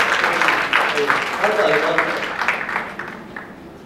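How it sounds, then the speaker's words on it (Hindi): Studio audience clapping on a televised Indian dance reality show, a dense burst of applause mixed with a host's voice talking over it, fading toward the end. "जोरदार ताली शताब्दी के लिए।"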